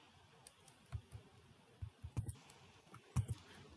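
Someone typing on a computer keyboard, a short scattered run of soft clicking keystrokes, close but quiet, with no talk.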